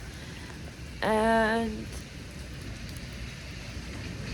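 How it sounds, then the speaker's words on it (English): Steady rain falls at night as a constant even hiss throughout, with someone briefly speaking a single word over it. "It's currently raining,"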